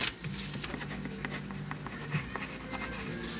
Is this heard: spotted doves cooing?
no